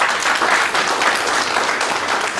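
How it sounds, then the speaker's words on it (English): Audience applause after a financial statements session at a Bangalore branch meeting, a steady dense wash of many hands clapping close by, loud and continuous with no talking. "A round of applause"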